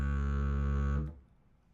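A strong, full didgeridoo drone played as a comparison: a loud, rich low tone with bright harmonics, sustained for about a second before cutting off abruptly.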